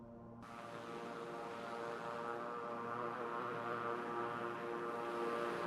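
A propeller aircraft in a flight simulator game drones steadily after a sudden start, with an even, continuous engine tone that grows slightly louder over the seconds, kept fairly quiet and alone.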